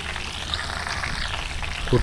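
Prawns fry in hot oil over a medium-high flame in an outdoor courtyard, turning crisp and golden: a steady, close crackling sizzle that runs throughout, with a brief voice near the end.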